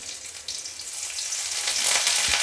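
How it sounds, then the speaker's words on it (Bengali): Crushed garlic and green chillies frying in hot oil, giving a steady close sizzle that builds slightly louder, with a faint stir and no speech. "রসুনটা আর কাঁচা লঙ্কাগুলোকে আমি একটু ভালো করে ভেজে নেব"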